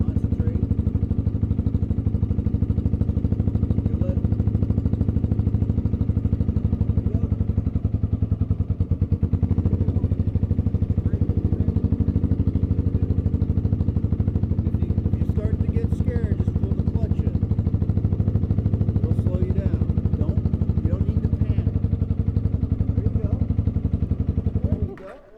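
A 2023 Honda Rebel 300 motorcycle engine runs steadily during a first test ride, a loud, continuous low drone with wind roar that holds for the whole stretch and cuts off abruptly at the end.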